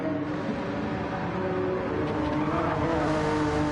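A Honda NSX race car in a Gr-4 racing video game drones at a steady high engine pitch, holding a sustained, even roar with no lifts or gaps and no talk.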